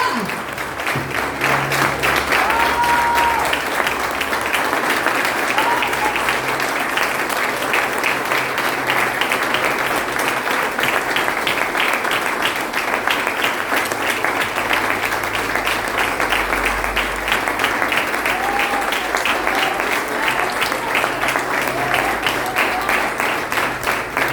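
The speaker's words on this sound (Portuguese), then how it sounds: "Então aplauda o Senhor com toda a sua força." A church congregation at an evening service applauding: loud, sustained clapping from a crowd that keeps a steady rhythm the whole time, with some faint voices under it.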